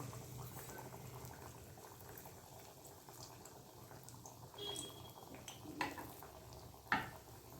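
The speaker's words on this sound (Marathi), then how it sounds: "आणि तेल हे तापलेलं आहे. आपण वडा तळून घेणार आहोत त्यामध्ये." Moong dal vada frying in hot oil, a soft, continuous bubbling hiss heard from close by, with a couple of faint clinks near the end and nobody speaking.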